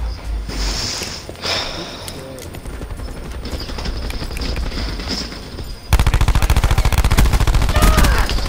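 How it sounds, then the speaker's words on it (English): Rapid automatic gunfire from a submachine gun in a first-person shooter, a dense rattling stream of shots throughout, growing louder and harsher near the end, with faint background game sounds. "What is this gun? Oh my god, it's a fucking submachine gun."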